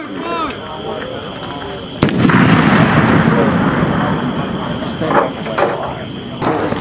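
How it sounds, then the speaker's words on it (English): An 84 mm Carl Gustav recoilless rifle fires during US military exercises, a sharp, heavy blast that cuts through a soldier's voice and is followed by a long rumbling roar outdoors. "the Carl Gustav is an 84 millimeter recoilless rifle that has the ability to take out vehicles on tracks and large structures"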